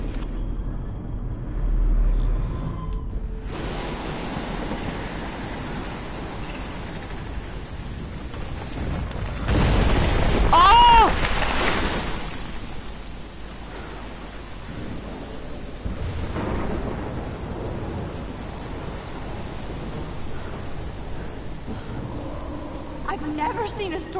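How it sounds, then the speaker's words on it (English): A thunderstorm in the video game Life is Strange rumbles steadily, with broadband rain noise throughout and a louder thunder swell near the middle, heard alone without talk. "I've never seen a storm like this in Oregon."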